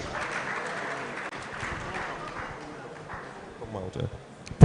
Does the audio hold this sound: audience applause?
yes